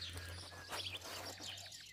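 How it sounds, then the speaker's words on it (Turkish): Birds chirp in a village garden, short tweets over a steady low hum, moderately close and fairly quiet. "Kuş sesi, koyun sesi"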